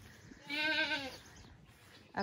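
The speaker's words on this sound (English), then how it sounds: "buck goat," A single Kiko buck goat bleat, loud and wavering, lasting about half a second, with quiet outdoor background before and after.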